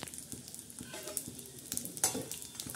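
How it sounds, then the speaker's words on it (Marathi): Cleaned Bombay duck fish (bombil) fries in a pan with a soft, continuous sizzle and occasional light stirring clicks, fairly quiet and close. "आता आपण छान असे मस्त साफसुथरे केलेले हे बोंबील तळून घेणार आहोत"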